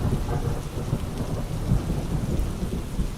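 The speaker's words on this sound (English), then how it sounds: "the thunder and rain will linger a little longer" Steady rain pattering with low rolling thunder rumbling underneath, dense and continuous throughout, no voices.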